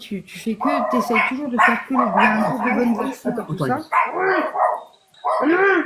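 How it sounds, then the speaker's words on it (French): A dog barks and yips repeatedly, close by, over and between an ongoing conversation in French. "c'est pas la gamine, c'est le chien maintenant"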